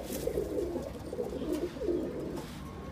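A pair of black Musallam pigeons coo nearby, repeated soft rolling calls in an unbroken low murmur over a faint background hiss.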